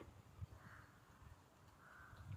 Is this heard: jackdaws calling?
yes